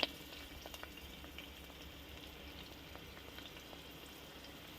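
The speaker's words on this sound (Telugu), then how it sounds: "ఆయిల్ వేడెక్కిన తర్వాత దీంట్లోకి కొన్ని ఆనియన్స్ వేస్తున్నా" Chopped onions and green chillies frying in hot oil in a pan, a soft steady sizzle with faint crackles throughout, fairly quiet and without talk.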